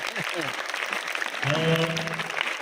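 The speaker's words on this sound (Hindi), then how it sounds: "बजाओ ताली अपने लिए।" School students at a seminar in a government higher secondary school in Chhatarpur applaud themselves, the clapping running under voices and loud nearby chatter.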